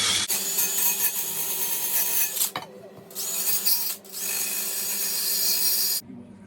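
A wire brush spinning on a drill scours metal parts for a VW T4 passenger swivel base, a loud steady abrasive whir that pauses briefly twice before cutting off near the end.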